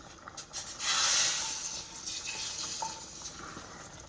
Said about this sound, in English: and pour it inside of your bean stew